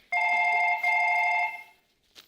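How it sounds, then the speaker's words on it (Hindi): A telephone rings on the set of a televised comedy talk show: a loud, steady electronic ring that pauses briefly and resumes, then cuts off, followed by a faint click. No talking. "मैम, मेरे फोन आए हैं।"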